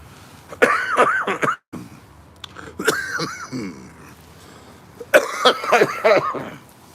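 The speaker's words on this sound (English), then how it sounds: "In spite of my coughing." Several bouts of harsh, raspy coughing, close and loud, separated by short pauses, with a wheezy quality between fits.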